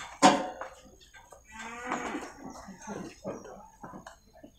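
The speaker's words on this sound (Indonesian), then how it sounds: "Ini sapi kurus betina ya." A thin female cow at a Monday morning livestock market in Purwakarta gives one loud, close moo at the start, followed by murmuring voices and market chatter.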